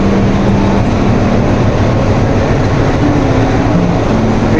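Steady, loud low rumble of a train at Sealdah station on a busy morning, a continuous mechanical drone with no voices heard.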